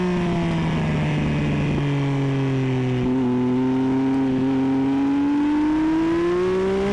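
A track car on a novice trackday at Donington Park accelerates hard down the final straight, its engine drone climbing steadily in pitch with brief shifts along the way. The sound is loud and continuous from inside the car, with no talking.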